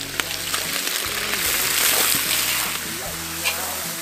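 Pickled cabbage hits a hot pan where a large grass carp is cooking, a loud broad sizzle swelling and then settling over a few seconds, with faint music underneath.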